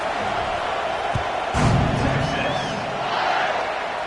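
A stadium crowd buzzes during a football game after a score, a dense steady roar with a brief louder swell of cheering partway through, heard from within the stands.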